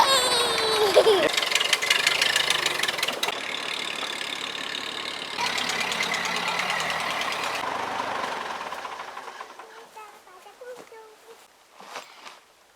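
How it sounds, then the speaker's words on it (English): A tractor engine idles with a rough, knocking rumble close by at an off-grid cabin building site, then cuts off, leaving quieter sounds and a few scattered voices. "That's all I had planned, was just to get the tractor up and running, and it is."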